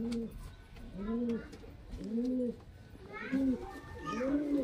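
Giribaz highflyer pigeons coo close by in a repeated rhythm of five or six soft rising-and-falling calls, with faint children's voices in the background.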